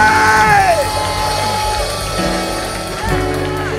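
A church congregation cheers and shouts in praise of God, a loud sustained wash of voices with whoops rising over a steady crowd roar, surging again near the end.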